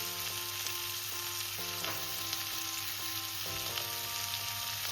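Pumpkin frying in a pan, a steady loud sizzle running throughout with faint scrapes of stirring, no voices.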